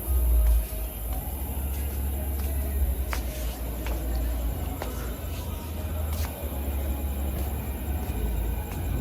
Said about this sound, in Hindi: ये देखो भाई हमारी ट्रेन आ चुकी है।